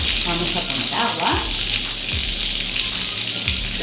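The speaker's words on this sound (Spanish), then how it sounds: "Vamos a poner agua." Water gushes from a tap into a bathtub in a steady, loud hiss that fills the space, with faint thumps and a brief voice underneath.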